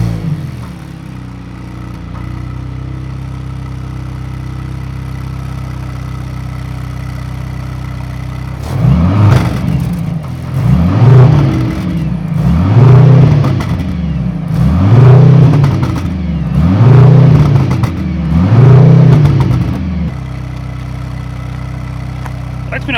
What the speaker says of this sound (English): So let's do a sound check of the new C63S.